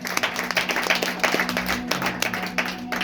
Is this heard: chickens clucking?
no